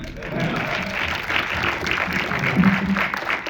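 An audience at a film-festival colloquium after a screening applauds briefly, a moderate burst of clapping from the room mixed with some voices.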